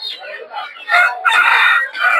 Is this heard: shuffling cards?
no